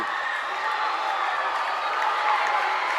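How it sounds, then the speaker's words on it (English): Loud, dense crowd roar fills a high school boys basketball gym after a game-tying deep three, a steady sustained cheer with no pauses throughout. "the crowd is going absolutely bonkers off that shot by Blakey"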